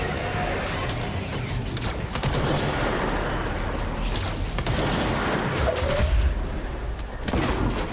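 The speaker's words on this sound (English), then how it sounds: "I actually have to shoot these guys as well." Sustained gunfire from the video game Control, dense overlapping shots and bursts running continuously under a steady din of game noise, with occasional whooshing sweeps.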